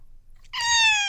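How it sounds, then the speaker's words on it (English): A recorded cat gives a single clear, drawn-out meow starting about halfway through, loud and close after a quiet lead-in. "I want to hear the cat again."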